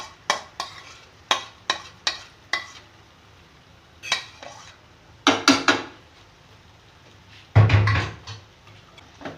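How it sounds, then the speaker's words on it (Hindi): Spoon scraping and clinking against a bowl as spices are mixed into mashed potatoes for aloo bharta, a series of sharp close knocks and scrapes, a few louder bursts, no talking. "और इसे भी मैं बहुत अच्छी तरह मिक्स कर दूँगी सबको"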